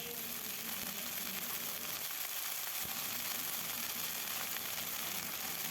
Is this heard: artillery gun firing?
no